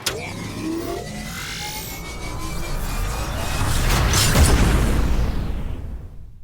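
A designed sci-fi charge-up and firing effect builds as a dense, rumbling roar that swells to a heavy blast near the end before cutting off, with no voices.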